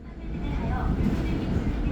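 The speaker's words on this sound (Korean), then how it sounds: "이곳은 서울 용산역입니다." Yongsan railway station in Seoul fills with a steady, loud low rumble of trains and station ambience that holds evenly throughout.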